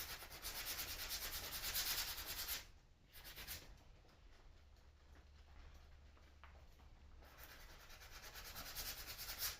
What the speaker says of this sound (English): sand the back of it off again